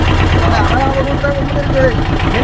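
Engine of a sunk and recovered boat running, a loud steady low rumbling drone close by, with a voice speaking over it.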